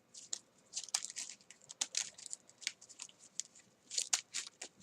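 Quick bursts of crisp, riffling clicks come in rapid clusters as trading cards in plastic sleeves are shuffled close by, with short pauses between.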